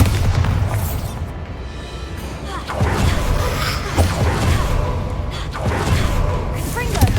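Hogwarts Legacy gameplay where a Bombarda blasting spell explodes, sounding as loud, dense booming blasts and crashes in a continuous battle din, with a sharper impact partway through.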